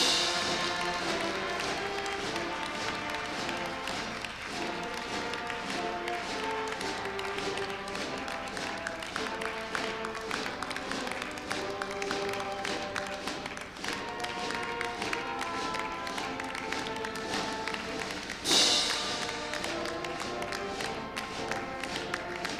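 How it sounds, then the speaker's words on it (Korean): An audience keeps clapping at the inauguration of Yeom Jae-ho as 19th president of Korea University. Sharp claps run evenly throughout beneath louder music, and a crowd fills the hall. "다시 한번 큰 박수 부탁드립니다."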